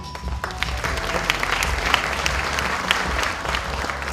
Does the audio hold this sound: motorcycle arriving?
no